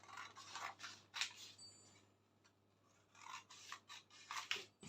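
Scissors cutting fabric along the neckline of a draped yoke, several quiet close snips in two bursts separated by a short pause, over a faint low hum.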